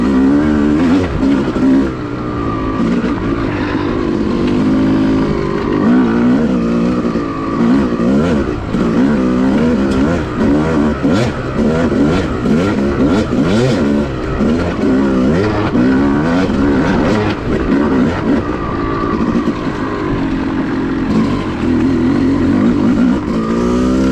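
Yamaha YZ250 two-stroke dirt bike ridden on wooded spring trails at an off-road park, its engine loud and close throughout, rising and falling in constant revs and throttle bursts with no talk.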